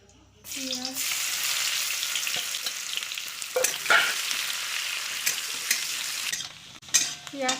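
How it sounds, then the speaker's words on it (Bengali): Onions fry in hot oil in a pan with asafoetida, cumin seeds, a dried red chilli and bay leaf for a Kabuli chana ghugni, giving a loud, steady sizzle for several seconds with brief stirring scrapes and no talk. "পেঁয়াজটা ভাজা হয়ে গেছে।"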